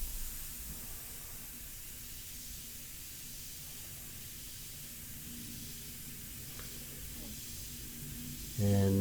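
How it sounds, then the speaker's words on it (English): Badger 100G airbrush spraying ink, a soft, steady airy hiss held at low level throughout, close by, with a brief louder tonal burst right at the end. "I have this airbrush right here, which is the 100G, which is the Badger 100G"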